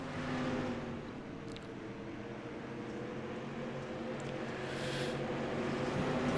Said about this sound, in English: Lap cars are coming out of turn 4.